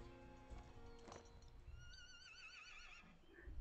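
A horse neighs and whinnies loudly and clearly in a horse breeding video game, its wavering call following steady hoofbeat clip-clops, with ambient game background and no talking.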